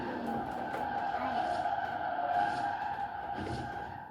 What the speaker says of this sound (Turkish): Sese bak be, lastik sesine